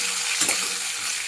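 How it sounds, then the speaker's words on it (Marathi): Green chilies being turned over as they fry in hot oil in a pan for a capsicum dish, a steady loud sizzle with a brief stirring scrape in the middle and no talking. "आता आपण मिरची खालीवर करून घेऊया"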